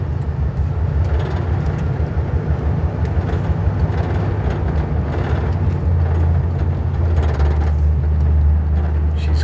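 An old car's engine runs rough and lumpy on its first drive after sitting five years, a steady loud low rumble throughout with uneven surging, heard from inside the moving car.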